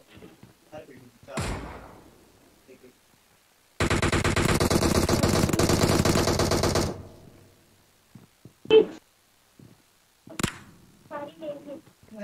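Gunfire rings out in BGMI: a sustained roar of rapid shots lasting a few seconds, plus isolated sharp cracks before and after, while people talk in between.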